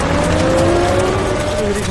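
A car moves off at speed in a short burst of engine noise and tyre sound, close and loud, while someone shouts over it.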